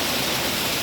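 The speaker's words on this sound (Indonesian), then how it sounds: "Nah, itu air terjunnya." Broadband roar of a two-tiered waterfall at Curug Nangke, a steady, dense wash of falling water filling the short moment with no voices.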